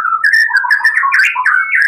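A white-rumped shama (murai batu) songbird kept for song contests sings a loud, close run of varied whistles and quick chirps, continuous and clear with no other sounds.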